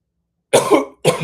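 Two sharp coughs close to the mic, the first longer and rougher, the second short after a brief pause, with silence before them.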